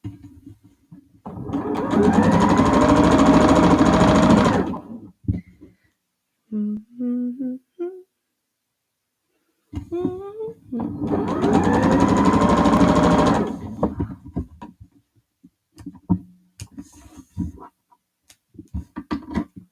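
A freshly oiled sewing machine stitching a quilt block, two long loud bursts of rapid whirring stitching separated by quiet handling clicks and fabric rustle, close up with no speech.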